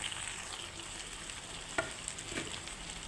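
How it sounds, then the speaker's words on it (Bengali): Green chilies and ridge gourd stir-fry together in a pan with a steady, close hiss of sizzling oil, broken by a couple of light scrapes and taps from the stirring spoon, and no talking. "এখন দিয়ে দিচ্ছি কাঁচা লঙ্কা ঝিঙে একসঙ্গেই দিয়ে দিচ্ছি আমি"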